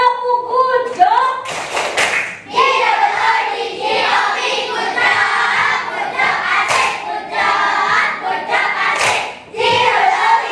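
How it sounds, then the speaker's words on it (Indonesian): Schoolchildren in a classroom perform a rhythmic clapping chant led by their teacher, sharp hand claps mixed with chanted voices in bursts, loud and close, with a brief pause in the middle. "Bu Guru mau kasih tepuk good job dulu, ya."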